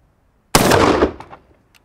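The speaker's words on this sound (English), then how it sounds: "we have put a ton of different rounds through this GForce 12-gauge AR" A single loud, close blast from a GForce GF12AR 12-gauge AR-style shotgun fired outdoors, with a roaring report of about half a second that decays into brief echoes.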